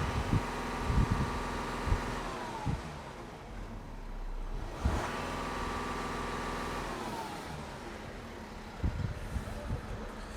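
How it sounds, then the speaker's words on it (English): Revving of a VW Amarok 3.0 TDI V6 diesel pickup through a side-exit exhaust with no silencers, rising in a steady drone toward the rev limit and falling away, held twice over about ten seconds with a few clunks. "I'll just take it to the soft rev limit."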